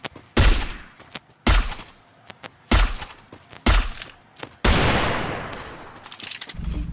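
Five loud bursts of video game gunfire ring out in quick succession, each a sharp crack with a short tail, the last one trailing into a longer echoing decay; no one talks.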